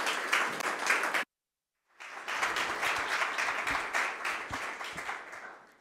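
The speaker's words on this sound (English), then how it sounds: "Welcome with a warm applause." Audience applause at a research conference session welcoming a speaker from a federal ministry, dense clapping from a room that breaks off briefly, then resumes steadily and fairly loud.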